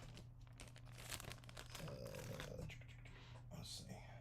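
A plastic bag crinkles and rustles close by during a collectible figure joint repair, steady crackling bursts over several seconds with low background hum.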